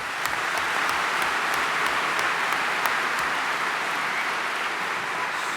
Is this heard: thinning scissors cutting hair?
no